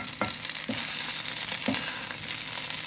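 Scrapple sizzling steadily in a good pan, with a few soft scraping clatters as slices are flipped, frying alone with no talk over it.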